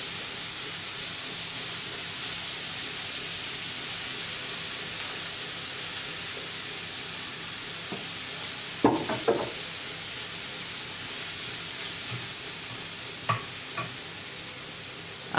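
Steady frying hiss from onions and spinach in a pan, close and even, broken by a few brief scraping knocks of a utensil, with no one speaking.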